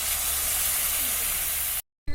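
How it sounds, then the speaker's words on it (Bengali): Water hits a hot pan of frying cumin and spices, giving a loud, steady steamy hiss that cuts off abruptly into silence. "এবার এর মধ্যে অল্প জল দিয়ে দেবো।"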